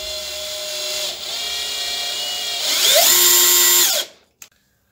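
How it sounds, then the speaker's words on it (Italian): A cordless drill driver fitted with a 13 mm socket drives a tailstock during tangent grinding, spinning steadily with a loud, close whine, speeding up partway through, then cutting off abruptly, followed by a brief click. "così posso inserire l'avvitatore, il trapanino, per avere un'azione continua e omogenea."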